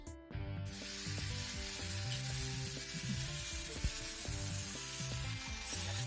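Chicken grilling in a hot pan with a little olive oil for taquitos, giving a steady close sizzle that runs through the whole stretch, with scattered clinks and scrapes of a utensil.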